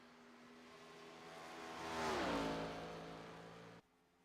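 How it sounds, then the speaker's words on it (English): A Gen 4 race car at Charlotte swells from a distance, roars loudly past at full throttle with a clear drop in engine pitch, then fades before the sound cuts off abruptly. "Get you some live audio of the cars, by the way."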